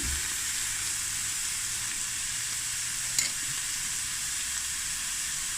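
Cauliflower stew bubbling and sizzling in a pot as it is stirred, a steady close hiss with a single brief clink of the spoon midway, no voices.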